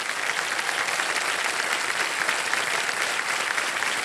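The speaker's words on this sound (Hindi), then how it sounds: "एक बार जोरदार तालियां बज जाए।" Steady, dense applause rolls through the television quiz show studio audience, with many hands clapping together at a constant level. The clapping is fairly near and continues without a break.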